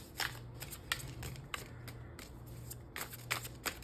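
Tarot cards being shuffled to draw a clarifier, repeated quick riffling bursts in an irregular rhythm, close and soft, with no talking.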